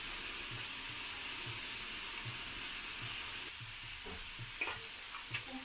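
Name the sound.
stirring tomato and chickpea fry in pan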